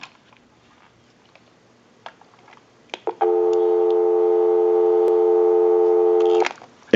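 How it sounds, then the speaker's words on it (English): A steady dial tone hums from a Mickey Mouse Tyco backpack telephone, loud and continuous for several seconds after a few faint clicks, with no voices. "Go ahead and give you some dial tone."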